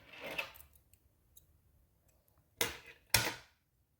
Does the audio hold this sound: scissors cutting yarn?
yes